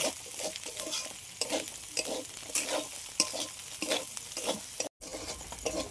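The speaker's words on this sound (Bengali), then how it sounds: "এইভাবে ভালো করে আমি মিক্স করে নেব।" Chicken garlic rice stirred and mixed in a hot pan, a steady scraping stir with a soft sizzle running underneath, the spatula strokes coming in repeated bursts, close and fairly loud, with a momentary cut near the end.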